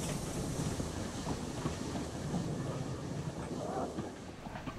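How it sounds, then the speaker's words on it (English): A steam train rumbles steadily along the rails with faint rhythmic clatter, a constant loud rolling noise throughout. "steamed slowly along with the works train"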